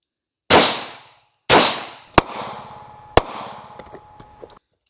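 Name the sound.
pistol shots fired at a PASGT Kevlar helmet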